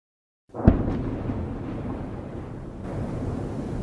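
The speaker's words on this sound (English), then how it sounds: "Explosions ringing across Ukraine overnight" A single heavy boom from an airstrike in Ukraine goes off at night, followed by a sustained low rumble and wind-like roar that lingers.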